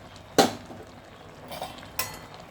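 A fried ground spice mix of radhuni, fenugreek, panch phoron and bay leaf tipped into a pot of milk thickened with cornflour and stirred: a sharp metallic clank, then a soft scrape and a second clink, close by with no talking.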